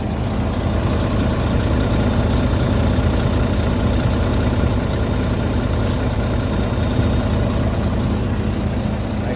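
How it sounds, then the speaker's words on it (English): A Volvo truck engine idles with a constant low, heavy rumble, loud and close throughout, with no pause or change in pitch and no voices. "I start the engine."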